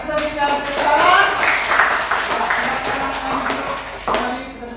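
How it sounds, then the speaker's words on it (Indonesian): A class of students claps for their classmates in group 4 after a group discussion, a scattered patter of hands mixed with chattering voices for several seconds before it trails off, with one late burst near the end. "Mari kita berikan tepuk tangan."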